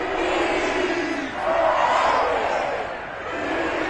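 A stadium crowd at an NFL game between the Falcons and Panthers roars in a broad, sustained wash of cheering, swelling briefly midway and carrying steadily to the end.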